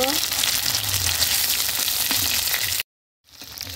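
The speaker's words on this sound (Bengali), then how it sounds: "কই মাছের এক পিস ভাজি হয়ে গেছে, পাশ উল্টিয়ে দিব।" Climbing perch pieces sizzle loudly and steadily in hot oil in a pan, a dense crackling hiss that cuts out abruptly near the end, then resumes more faintly.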